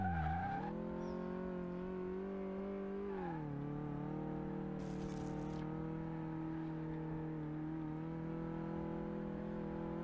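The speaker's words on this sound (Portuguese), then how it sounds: "o motorzinho dele tá bom, mano" Car engine in Car Mechanic Simulator 2018 idling steadily and loud throughout, with a brief rev and drop in pitch early on and a short burst of high noise midway, no talk.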